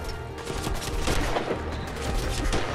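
Rapid gunfire bursts from a Colt Python and other weapons in the Fallout 4 video game, dense and continuous with booming impacts and game effects filling the whole stretch.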